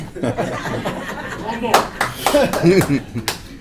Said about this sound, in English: They keep on clapping.